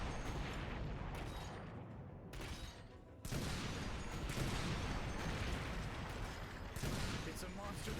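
Heavy, continuous booming and rumbling explosions from bombing in the Earth Defense Force 6 video game, with a brief lull before the barrage resumes at full, dense loudness. A voice occasionally talks over it.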